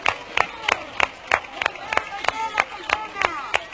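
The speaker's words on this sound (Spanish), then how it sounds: "¡Un aplauso!" Rhythmic, evenly spaced clapping from a crowd at a carnival opening proclamation in Bornos, with voices shouting and talking over the beat.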